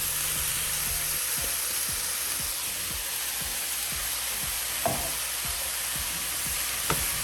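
Rice and pineapple stir-fry in a hot pan with a loud, continuous sizzle, marked by quick rhythmic scrapes and taps of a utensil tossing the mix, plus a couple of sharper clacks. No one speaks.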